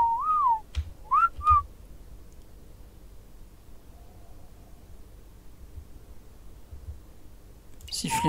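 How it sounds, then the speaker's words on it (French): A neutral whistle command in the video game Ark: Scorched Earth, a short rising-falling whistle followed by two quick whistled notes, then quiet room noise. "Sifflet neutre."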